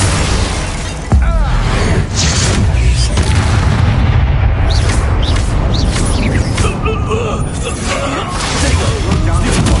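Explosive combat spells burst during a Hogwarts Legacy battle, with loud booms and crashing impacts piling up nearly without pause, a sharp blast near the start, over continuous dense noise and occasional shouted voices.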